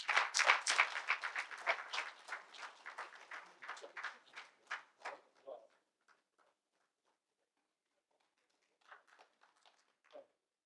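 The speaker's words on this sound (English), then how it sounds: "We have claps now." Audience applause at an inaugural ceremony for a hernia summit, a full round of clapping that thins and dies away after about five seconds, followed by a brief scattered second burst near the end.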